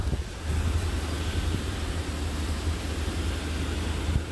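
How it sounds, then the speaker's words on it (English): Steady wind rumbling and buffeting outdoors, a constant low roar with gusty surges throughout. "So you see it's kind of windy"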